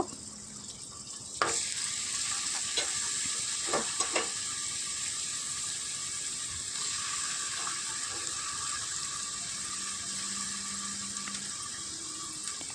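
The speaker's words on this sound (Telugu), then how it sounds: "ఇలా డోరగా వేయించుకున్న తర్వాతకి చికెన్ అనేది వేసేసుకుందాం ఇలా చికెన్ వేసుకుంటున్నాను" Chicken pieces go into a pan for a South Indian chicken fry, producing a continuous hissing sizzle with a few scattered clicks and spatters. The sound is steady and moderately close, with no voices.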